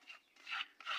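Organic fertilizer mixture for a guava tree rubbed and stirred by hand, three close gritty rasping bursts of granular material with no talk.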